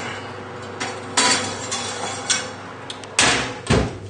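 A plate is lifted out of a home oven while making honey and lemon roast chicken: several sharp clatters and knocks of crockery and the oven door, close and fairly loud, with quieter handling between.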